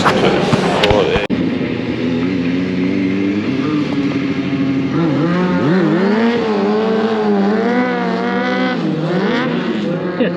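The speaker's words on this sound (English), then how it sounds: "Just a basic sit-down wheelie to start with." A motorcycle engine revs and holds a steady, droning note as a stunt rider performs a sit-down wheelie at a Scottish motorcycle show, loud and close, the pitch rising and wavering after a sharp bang near the start.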